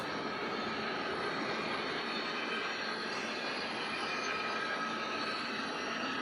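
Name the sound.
model train running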